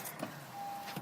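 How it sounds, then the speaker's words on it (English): A Japanese car's power window motor whirs steadily as the glass goes up, a quiet mechanical hum inside the car with a couple of small clicks at the start and end. "Should we put the window up on the car here?"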